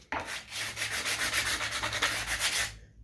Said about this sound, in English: Now, I'm not really wanting to sand too much.